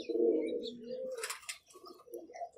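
A teddy baby pigeon gives soft, low cooing calls with a few brief high chirps and a light flutter of wings, close and fairly quiet, with no voices.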